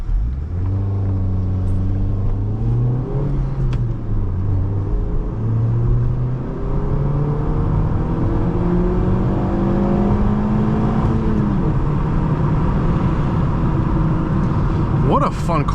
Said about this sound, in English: so you can hear the engine note better